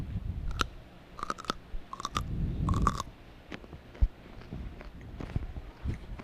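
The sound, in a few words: chewing a bite of apple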